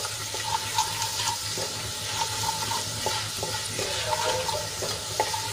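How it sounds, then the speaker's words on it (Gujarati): Gram flour sautéing in a ginger, garlic and chili paste in a pan, a steady close sizzle with soft scraping stirs, no talk. "ચણાનો લોટ થોડોક સંતળાઈ ગયો છે"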